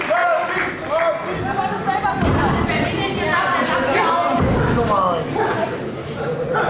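A wrestler is slammed down onto the mat at a professional wrestling show, with dull thuds landing under a commentator's voice and steady crowd noise.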